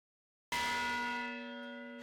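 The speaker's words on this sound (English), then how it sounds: "to ring their bell outside" A bell rung outdoors from a second-story balcony of a historic home in Natchez, Mississippi strikes once with a sharp attack, then its bright metallic tone rings on and slowly fades, alone with no voices.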